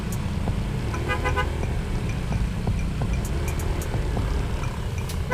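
A traffic jam heard from an ADV motorcycle, with a constant low engine and road rumble and several short car-horn toots, some in quick bursts, nearby.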